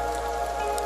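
Rain falls over a village on an evening, a steady soft hiss and patter that holds even throughout with no voices.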